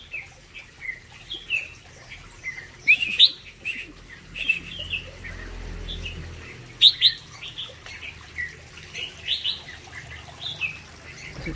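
Wild birds kept in a cage, including bulbul-type birds and quail, give scattered close chirps and tweets in irregular bursts, with occasional wing flutters and a faint low background hum.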